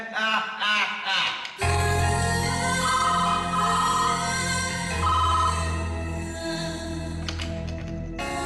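A telephone ringtone plays as a steady, melodic electronic tune that starts abruptly and keeps repeating at even loudness for several seconds, close and clear with no voices over it.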